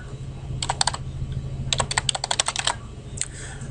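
Clicky typing on a computer keyboard while entering a login password, in two bursts of rapid keystrokes, a short group followed by a longer run, close and fairly quiet over a low steady hum.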